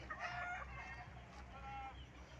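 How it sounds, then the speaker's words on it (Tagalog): A rooster clucks outdoors with light drizzle in the air, a few close, faint throaty calls over a steady hiss of rain and background noise. "Barako yan"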